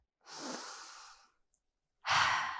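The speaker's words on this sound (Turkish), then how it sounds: "Şimdi önce derin bir nefes alacağız." Two slow, deep breaths close to the microphone: a long airy inhale, a short pause, then a strong breathy exhale, with no talking.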